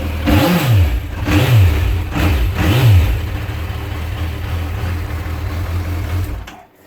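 A Suzuki Bandit motorcycle with its standard exhaust revs three times in quick succession, each a loud near surge that climbs and falls back, then settles into a steady idle before cutting off at the end.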